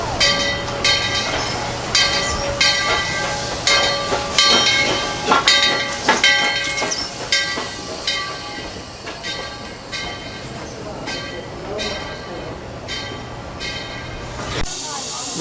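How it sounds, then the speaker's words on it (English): The Dollywood steam train ride in Pigeon Forge, Tennessee rolls along with repeated sharp hisses and clanks of the steam engine over a rumbling, clattering carriage, a sudden burst of hiss at the end. "The train ride is 20 minutes long"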